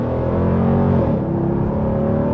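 A 2025 Dodge Durango SRT 392 V8 accelerating at half throttle, a deep steady engine roar with a gradually rising pitch, heard loud from inside the cabin with no talk.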